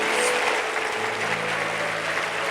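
Church congregation applauding at a prayer centre anniversary service, a steady wash of clapping held at even loudness with a faint low hum beneath.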